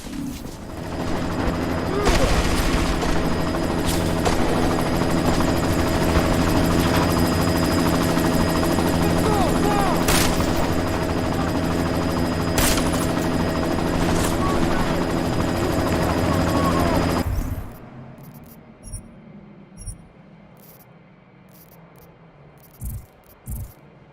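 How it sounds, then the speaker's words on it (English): A helicopter flies in the Deus Ex: Mankind Divided video game, with a loud, continuous rotor roar mixed with bursts of gunfire that cuts off abruptly near the end, leaving a few faint clicks. "You've got to stop that chopper."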